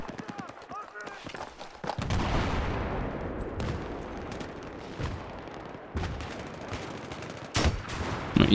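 Bursts of gunfire from the video game Battlefield 3 multiplayer, a loud, rapid cluster of automatic shots with sharp cracks and scattered single shots, mixed with game noise and someone talking over the action.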